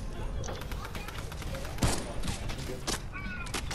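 Gunfire in a Floor is Lava building-and-shooting video game comes as scattered bursts and one sharp louder crack midway, mixed under steady background noise with a player talking over it.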